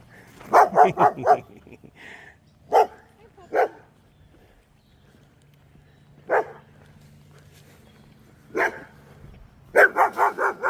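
A puppy barks in short bursts on the Appalachian Trail, a quick run of barks, then scattered single barks, then another rapid series, fairly close and loud.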